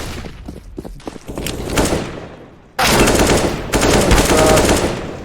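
Pistol fire sounds in a competitive shooter game, with a few sharp shots and rapid bursts, loud and close, mixed with thumps and dense noise in the later half.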